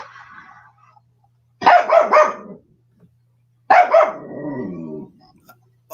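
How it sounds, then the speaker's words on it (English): A dog named Bruce barks in two short clusters of sharp, close barks separated by a pause, with quiet gaps between. "we're just going to do that while Bruce is barking"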